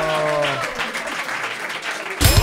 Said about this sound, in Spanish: Un fuerte aplauso para Pedro Reinares.